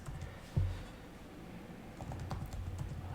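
Soft, close keystrokes on a computer keyboard as test code is typed, a quiet steady patter with a single louder knock near the start and no talking.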